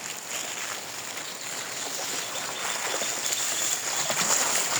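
A water pump motor runs steadily at a rural village home in the morning, with water pouring continuously into a container kept for the cows, a constant broadband rush that holds at an even level throughout.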